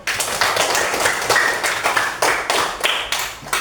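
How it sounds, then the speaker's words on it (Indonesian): Applause from a group of primary school students in a classroom, steady dense clapping that fills the whole stretch, fairly close and loud with no talk over it. "Tepuk tangan buat kelompok 1"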